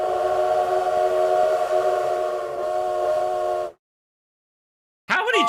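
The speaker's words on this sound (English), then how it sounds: "How many trains was that? How many trains did you... I feel like I heard like 3 trains at least." A train passing: a loud, sustained multi-tone horn blares for nearly four seconds, then cuts off abruptly into silence, with another burst of sound starting just at the end.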